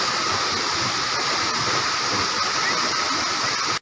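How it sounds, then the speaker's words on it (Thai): Tad Kaeng Yui waterfall in Vang Vieng, Vientiane Province, Laos, gives a loud, constant roar of rushing, splashing water that stays even throughout and then stops abruptly. "น้ำตกตาดแก้งยุยแห่งนี้เป็นแหล่งท่องเที่ยวแห่งใหม่ของเมืองวังเวียงแขวงเวียงจันทน์"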